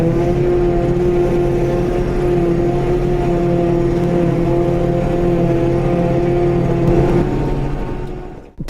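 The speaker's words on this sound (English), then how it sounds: "This is a silage harvester For for chopping grass, to make silage for cows for the winter." A silage harvester drives around a field chopping grass for cattle silage, producing a loud, steady, droning engine hum with a constant tone throughout, cutting off abruptly at the end.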